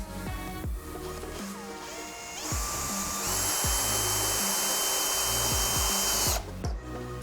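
A power drill driving a screw into wood, rising to a loud, steady whine for a few seconds against a backdrop of low thumps and knocks, then cutting off abruptly; close and without talk.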